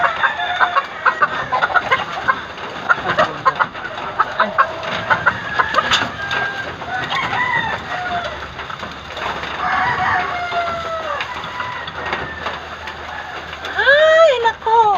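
Chickens cluck steadily, with a rooster crowing near the end; the flock is close and busy, with faint voices mixed in.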